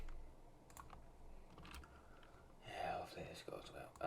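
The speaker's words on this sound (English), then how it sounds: "we're just gonna type in buffers" Faint keystrokes on a computer keyboard while working in Blender, with scattered clicks early on and a busier burst of typing near the end over a low background hum.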